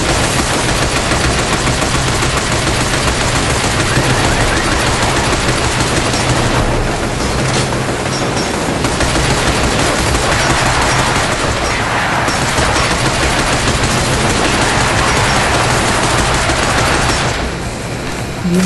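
Sustained automatic gunfire in the shooter video game Binary Domain, loud and dense rapid bursts running almost continuously with brief lulls, no voices.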